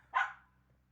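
A dog gives a single short bark outdoors in a garden yard on a mild spring day. The bark is close and clear, then fades into quiet.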